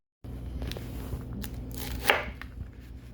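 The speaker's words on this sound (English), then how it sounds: "so I'm chopping Brussels sprouts." A knife chops Brussels sprouts on a cutting board with a few scattered crisp cuts and scraping sounds, close and fairly quiet, with no one talking.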